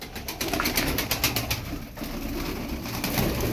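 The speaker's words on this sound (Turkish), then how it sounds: "Bunlar patır patır oynarlar." Çorum pigeons clap their wings in a quick burst of sharp, repeated slaps, followed by steadier fluttering and cooing close by.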